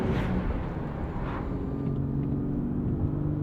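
Inside a Nissan Z fitted with a Valvetronic Designs exhaust with the valves open and the windows up, a steady low exhaust drone fills the cabin at an even cruise, with no talking.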